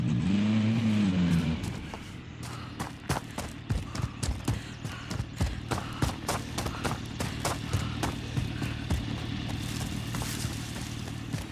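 Vehicle driving in Call of Duty Warzone on Xbox One X: a steady engine drone with a brief rising rev at the start, then continuous rumble punctuated by rapid clattering bumps and knocks, moderately loud and without talk.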